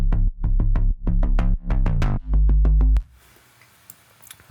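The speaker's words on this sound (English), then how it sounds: "I found a really cool bass line from Avenger" Synth bass line from the Avenger synthesizer in a pop production, a run of punchy, rhythmic plucked bass notes ending in a long held low note that cuts off, then near silence.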